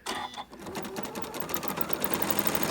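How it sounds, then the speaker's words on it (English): A sewing machine runs a quarter-inch seam, its rapid needle chatter building into a steady, close, even whir after a short start. "we're going to put this in the machine and just sew this a 1/4 inch"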